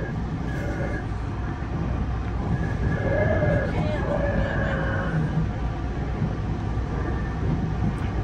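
The UP Express airport train pulls into Toronto Union Station with a steady rumble of rolling wheels and interior noise, plus a few faint squeals partway through.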